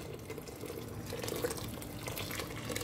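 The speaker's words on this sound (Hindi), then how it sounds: "तकरीबन 6 ग्लास मैं बॉइलिंग वाटर इसमें ऐड कर रही हूँ।" Boiling water poured from a glass into a cooking pot for Emirati hareesa of meat and wheat, a soft steady splashing trickle, fairly faint and close, with no talk.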